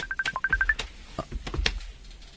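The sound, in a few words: cellphone ringing with incoming video call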